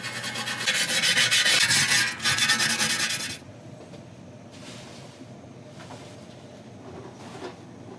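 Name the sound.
brass brush scrubbing a steel transmission pan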